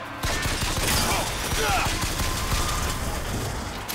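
Sustained automatic turret gunfire in BioShock Infinite, a dense stream of rapid, loud shots rattling on without pause for the whole stretch.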